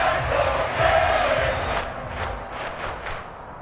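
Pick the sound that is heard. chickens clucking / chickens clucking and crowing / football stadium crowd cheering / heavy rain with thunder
football stadium crowd cheering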